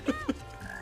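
Black frog enemies in the video game Sonic Heroes give two short, low croaking grunts in quick succession, followed by a faint sustained electronic tone.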